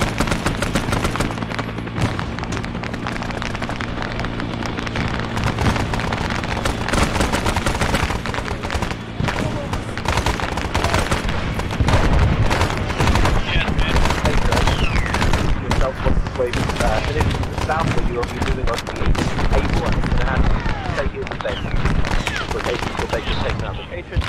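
Arma 3 combat with sustained gunfire: rapid bursts and machine-gun volleys, with occasional booms, go on almost without a break under radio chatter and talk.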